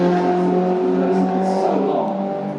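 Volkswagen Scirocco race car at Donington Park in a touring car race, its engine droning at high, steady revs, close and loud, fading slightly toward the end.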